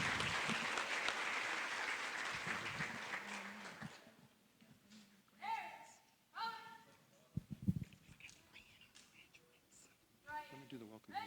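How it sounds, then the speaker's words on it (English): A graduation audience at the Cape Coral Institute of Technology 2014 ceremony gives a warm round of applause that fades after a few seconds. Low murmuring and quiet voices follow in the hall. "Let's give a big round of applause for Kristen Riley."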